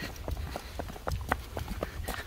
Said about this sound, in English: horse 跑得好快啊